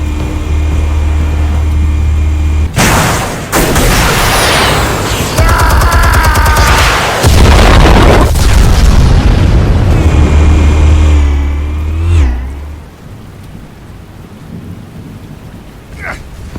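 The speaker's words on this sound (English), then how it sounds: "Explosives armed. Fire when ready." Heavy booming explosions from the Batman Telltale Series game, Episode 1 Realm of Shadows, roar loud and sustained with rumbling low end, crackling bursts and debris, then fade into a quieter rumbling tail.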